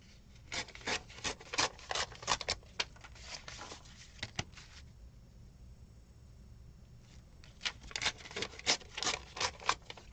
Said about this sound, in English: so I'm just going to trim this down to be the same size.